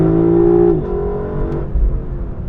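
A Lexus LC 500 with a 5-liter V8 holds a loud, steady rev that drops sharply partway through and settles into a lower, rumbling idle-like growl, close and alone.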